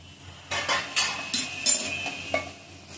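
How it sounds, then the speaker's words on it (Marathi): Spoon scraping and stirring aloo palak bhaji (potato and spinach) in a pan over a low flame, a series of close, distinct strokes with a soft sizzle underneath and no talking. "मिक्स करून घेऊ."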